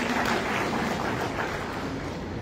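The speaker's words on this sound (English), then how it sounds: "give her a round of applause" Audience applause at a pregnancy help center gala, a steady broadband wash of clapping from a crowd at moderate distance, continuous for the whole stretch with no voices over it.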